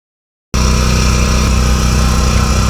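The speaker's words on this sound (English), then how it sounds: "That noise you just heard was the very loud generator running in the background." A very loud generator starts abruptly after a short silence, then drones on at a constant, heavy level, close and unbroken.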